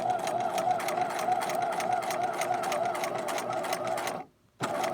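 A domestic sewing machine runs steadily, basting a waistband seam at a quarter-inch mark. The stitching hum is close and continuous, then stops briefly near the end before starting up again.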